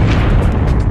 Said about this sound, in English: the core of the star collapses and the outer layers fall in on top of it and bounce outward in a tremendous explosion